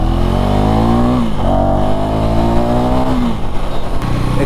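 A 2024 KTM Duke 390 single-cylinder motorcycle revs loudly up close, its exhaust note climbing in pitch, dropping back, then climbing again in a second steady rise over about four seconds.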